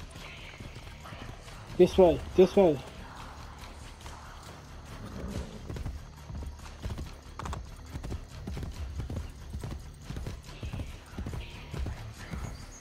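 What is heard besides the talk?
horse hooves clip-clopping in Assassin's Creed Brotherhood video game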